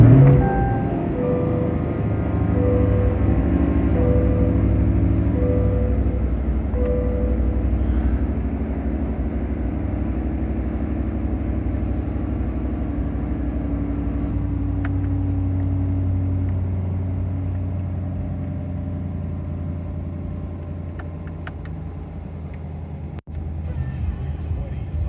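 A Chevrolet C8 Corvette engine rumbles steadily at idle from start to finish, a low continuous drone heard from inside the car, with a few faint clicks and a sharp knock near the end.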